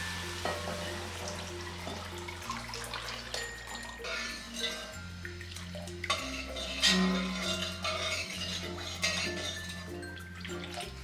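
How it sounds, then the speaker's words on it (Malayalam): Sugar and naruneendi syrup stirred in a pot on the stove, with a low steady bubbling and liquid swishing and occasional spoon clinks against the metal, while a faint tonal hum runs underneath. "ഇതിലേക്ക് ഈ നറതണ്ടി സിറപ്പും കൂടി ഒഴിച്ച് നല്ലതുപോലെ ഇതൊന്ന് മിക്സ് ചെയ്ത് കൊടുക്കാം"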